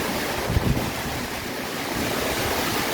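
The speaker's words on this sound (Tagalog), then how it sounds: "lakas na hangin" Strong typhoon wind from Typhoon Paeng roars and buffets the microphone continuously, a loud broadband rush with a couple of low thumps, no voices.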